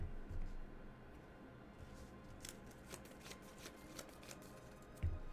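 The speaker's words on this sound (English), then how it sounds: "I'm actually shuffling the set of extended art basic lands that Hurly Burly sent me" Extended-art basic land cards from a Magic deck being riffle-shuffled up close, a soft steady ruffling that runs on for several seconds, with a couple of sharper taps as the stack is squared.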